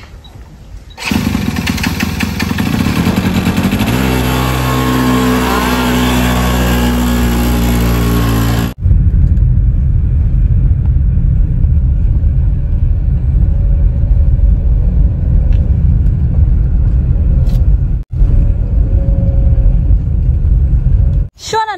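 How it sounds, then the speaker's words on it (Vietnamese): A motorbike engine revs and idles loudly up close on a sunny farm field, then settles into a steady rumbling drone as it pulls away, with brief pauses and a voice talking over it. "Nhìn bà chạy xe rất là hoành tráng luôn mọi người."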